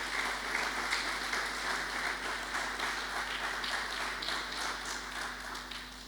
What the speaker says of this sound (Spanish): Dale un aplauso al Señor, ¿por qué no?